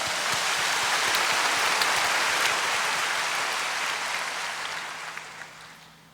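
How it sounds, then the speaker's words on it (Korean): A church congregation claps together after a call to applaud, a dense, hissing wash of many hands at moderate distance that gradually tapers off. "아멘 하시면 한 박수를 쳐주시기 바랍니다."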